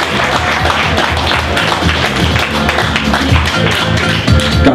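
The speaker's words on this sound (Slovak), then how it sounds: "Poprosím potlesk." Audience applause fills a fight weigh-in for an MMA bout in the 71 kg category: dense, continuous clapping with crowd noise, steady and loud throughout, with no distinct voices.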